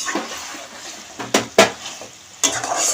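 Chicken and onions fried in a pan, with a low sizzle under a few loud, sharp scrapes and knocks of a utensil against the pan, close by.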